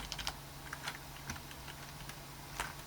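Fast, light typing on a computer keyboard at an HP desktop, a quiet run of irregular clicking keystrokes close by, with no talk.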